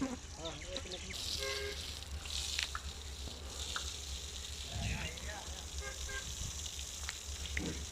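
Water splashes as a sacrificial animal for the 2025 Qurbani is bathed outdoors in Karachi, a faint, continuous wash and spatter heard under people talking.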